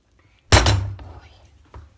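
A metal pot of meat in hot water, seasoned with salt and chili flakes, lands on a home stove with one sharp, ringing clank, then a softer knock shortly after in a quiet kitchen.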